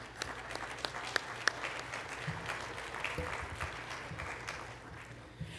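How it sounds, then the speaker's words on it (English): A quick round of applause from the audience at a keynote luncheon, fairly faint and distant, a steady patter of many hands with a few sharper claps, no talk. "let's just give a quick round of applause to the VICC staff"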